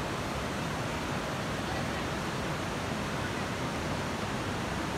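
The Alpayacu River in Mera, Pastaza flows past a clear, sandy-bottomed pool with a steady, dense rush of water that is loud, close and continuous and has no voices over it.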